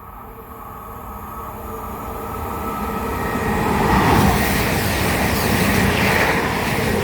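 A Class 220 Voyager diesel train passes on the Great Western Main Line at Pangbourne, a loud working rumble that builds and peaks midway then holds as the carriages roll by, with no voices.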